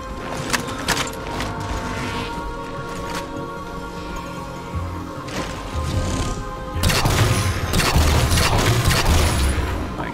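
An Elite enemy fires on the player in Halo 4, with scattered shots and mechanical impacts under constant game ambience, growing louder and busier in the last few seconds.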